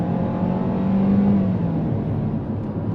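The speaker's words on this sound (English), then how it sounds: "So another acceleration, since no one is behind me, let's go from 20 or throttle down." A 2024 Kia Seltos 2.0L LX Plus (110 kW, 2WD) accelerating from about 20 km/h, heard from inside the cabin as a steady, moderately loud engine drone with a faint rising tone and no talk.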